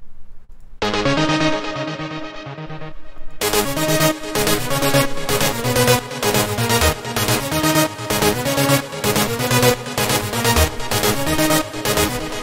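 A bright electronic lead melody plays over a full dance track, starting with a short intro before the dense beat and layers kick in.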